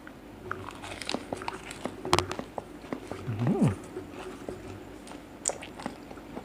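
Close crunchy bites and wet chewing of fried rice with nam sausage salad wrapped in fresh vegetables, with sharp crackles scattered over a few seconds and faint voices in the background.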